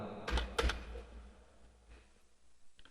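Computer keyboard keys pressed while drafting a bottle drawing in AutoCAD 2024, a couple of sharp close clicks early on, then quieter scattered taps.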